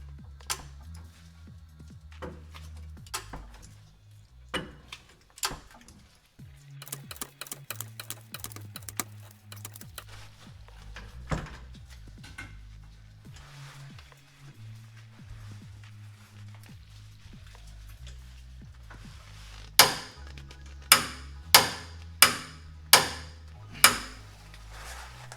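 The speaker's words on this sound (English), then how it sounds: "Back at it with a torque wrench." Torque wrench tightening a bolt on a 2004 Dodge RAM 2500 2x4 during transmission and pinion seal repair, a long series of close ratcheting clicks followed by five sharp, evenly spaced loud clicks near the end, no talk.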